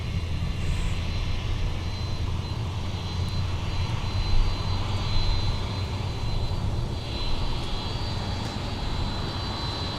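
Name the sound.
airplane jet engine taxiing at MSP airport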